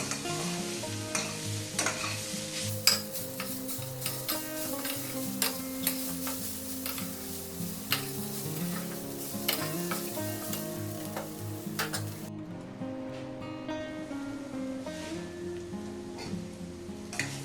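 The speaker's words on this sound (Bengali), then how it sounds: "আরো দু তিন মিনিট একটু ভেজে নেবো" Sliced bitter gourd sizzles and fries in a pan with salt while a spatula stirs and scrapes repeatedly, with small clinks throughout; the sizzle quiets partway through.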